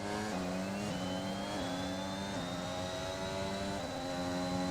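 F1 2021 race car engines scream loudly and continuously with repeated upshifts, a higher-pitched rival car whining alongside as it draws past, with no talk.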